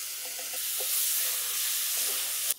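Minced garlic and onion sizzle steadily in a skillet for a keto coconut beef curry, a bright continuous frying hiss with faint scraping, ending in a short knock.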